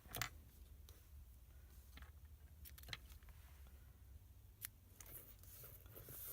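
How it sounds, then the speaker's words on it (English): A few sharp, quiet snips of scissors cutting ribbon, spaced irregularly over a soft background hiss. "then I'll take my scissors and snip it"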